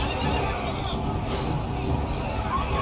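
Horse neighs amid a cavalry battle in the video game Total War: Three Kingdoms, heard over a dense wash of clashing troops and crowd babble, the whinny faint and partly buried in the continuous battle noise.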